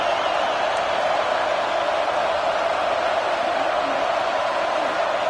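Steady roar of a stadium crowd in a college football video game, Buffalo versus Washington, a dense continuous wash of cheering held at an even loud level throughout with no break.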